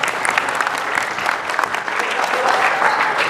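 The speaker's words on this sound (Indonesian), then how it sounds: "Tepuk tangan yang meriah buat Pak Noval." An audience at a community earthquake-preparedness workshop gives a lively round of clapping, a dense, steady patter of many hands that stays fairly even and swells a little toward the end.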